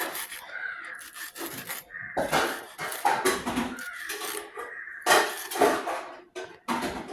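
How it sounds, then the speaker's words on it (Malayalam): Leaves are cut up for pretend childhood cooking play, giving bursts of scraping and rasping chops in uneven clusters with short pauses, fairly close. "അപ്പോൾ ഗൈസ്, നമുക്ക് ഇനി ഇത് അരിഞ്ഞെടുക്കാം."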